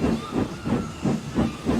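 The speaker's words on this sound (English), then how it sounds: "The guard blew his whistle, and Percy set off quickly, hoping to get a run at the hill leading to the main line." Percy, a steam engine in an animated railway show, sets off with rhythmic, loud hissing puffs of steam, about five even chuffs in quick succession with no talking.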